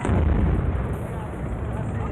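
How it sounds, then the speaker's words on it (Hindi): A bomb disposal squad detonates an IED near a highway, producing a sustained, dense, loud rumbling blast that fills the whole moment without a break. "फिर बम निरोधक दस्ते ने आईडी में धमाका कर आतंकियों की साजिश का अंत कर दिया।"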